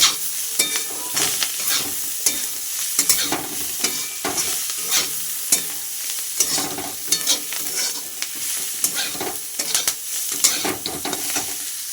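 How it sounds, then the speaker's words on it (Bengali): Leafy greens frying in a pan, stirred over and over, with steady sizzling broken by irregular scraping strokes, fairly close and with no talk. "শাকগুলো আমার ভাজা হয়ে গেছে, এবার নামিয়ে নেবো"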